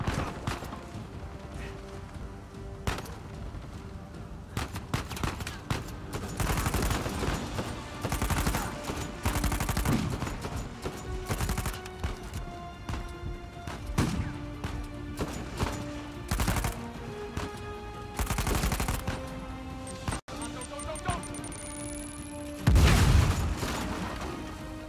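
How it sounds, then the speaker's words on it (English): Repeated shotgun blasts ring out in a firefight in the video game Uncharted 4, sharp booming shots arriving irregularly over a continuous battle din, some closely spaced, with one louder burst near the end. "What the hell is that? A shotgun?"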